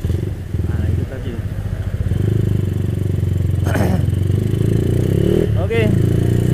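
A Suzuki Satria FU 200cc motorcycle engine runs steadily up close, a loud continuous drone with brief rising revs and clatter, while a voice talks over it.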